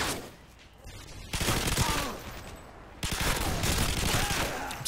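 An M240 light machine gun fires in Modern Warfare 2, loud rapid bursts in two sustained volleys with a brief pause between, the second starting sharply at three seconds.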